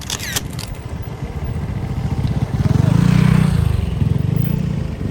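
A motorcycle rolls slowly over a rough road in Masinloc, Zambales, its engine a steady low rumble that swells louder midway, with rattling clatter at the start.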